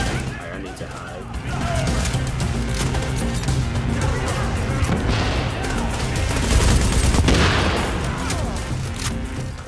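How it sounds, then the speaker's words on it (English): Sustained bursts from a light machine gun in Tom Clancy's The Division rattle out in loud, rapid automatic fire, layered with other gunfire and crashes during an underground firefight. "I love light machine guns, but it takes forever to reload"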